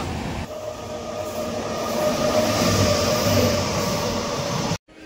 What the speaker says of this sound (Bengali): হাওড়া বারবেল জনশতাব্দী এক্সপ্রেস এটা।